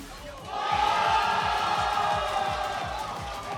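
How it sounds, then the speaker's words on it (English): A large crowd at a DDR (Dance Dance Revolution) tournament erupts into loud cheering and whoops that swell and hold, over a thumping rhythmic beat from the game music in the hall. "Huge crowd reactions coming from something happening on the other stream."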